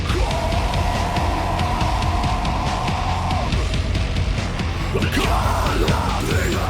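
Heavy synth screeches in a metal song, a dense, loud wall of distorted sound with a sustained screeching tone in the first half and a sharp new burst of noisy synth near the end.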